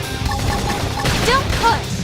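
A flame grenade going off in Xenoblade Chronicles X combat: a rapid crackle of bursts and impacts amid battle sounds, with a couple of bright tonal sweeps, loud throughout.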